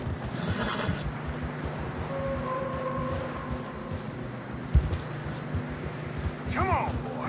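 A horse in the video game Red Dead Redemption 2 whinnies loudly near the end over a steady rumble of hooves through snow and ambient noise, with a few soft tonal sounds earlier.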